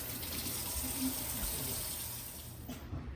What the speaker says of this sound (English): now I've got the water in it